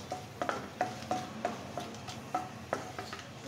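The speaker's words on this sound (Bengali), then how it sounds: "4টা এলাচ, 4টা লবঙ্গ, 2টা তেজপাতা ছিঁড়ে দিয়ে দিলাম। খুব সুন্দর একটা ফ্লেভার আসা পর্যন্ত আমি এটাকে ভেজে নেব।" Four cardamom pods, four cloves and two torn bay leaves frying in oil for beef bhuna, a soft background sizzle broken by regular light taps and scrapes of a spoon stirring the pan.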